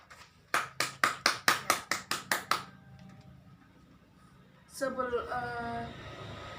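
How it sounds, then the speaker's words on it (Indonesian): A classroom of students claps for a classmate with a quick run of about nine crisp, rhythmic claps that stop abruptly, followed by a voice speaking close by. "Tepuk tangan buat Mas Anggi."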